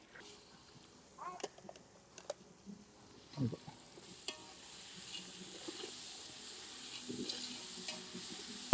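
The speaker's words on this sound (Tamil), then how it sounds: "இஞ்சி பூண்டு பேஸ்ட் போட்டு கொஞ்சம் நல்லா வதங்கிடுச்சு" Ginger garlic paste sautés in a large pot for chicken biryani, a quiet sizzle of frying broken by scattered clinks and scrapes of a ladle stirring, with a faint voice now and then.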